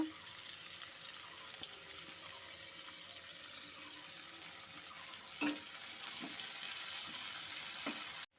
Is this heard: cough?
no